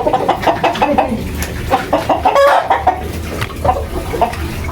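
A chicken clucks repeatedly in short, agitated bursts close by, with a rough squawk in the middle and background noise underneath.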